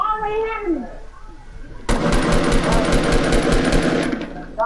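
Rapid automatic gunfire in a multiplayer shooter video game kicks in abruptly after a stretch of talking and rattles on loudly and steadily to the end, with voices chattering under it.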